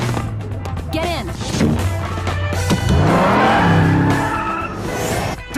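Cartoon car engine revving and accelerating with tire squeal and whooshing sound effects, loud and continuous, with a rising engine whine in the middle and voices speaking over it.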